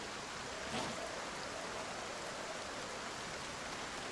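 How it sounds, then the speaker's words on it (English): Steady rain in a video game hissing evenly, a soft continuous wash of falling drops with no voices. "It is raining, but I think we'll be okay."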